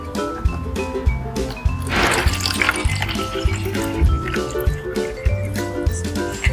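Salt water poured into a portable aluminum-sheet salt-water lamp, a close splashing and trickling fill with rhythmic sloshing and faint clinks.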